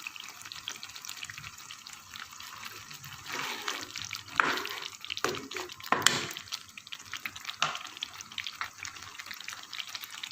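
Three green chillies and one red chilli drop into a sizzling pan for an onion salan, giving a steady frying hiss with a few louder crackling bursts as they hit the hot oil.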